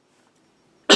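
A single sharp cough bursts out abruptly at the very end, loud and close, after near silence.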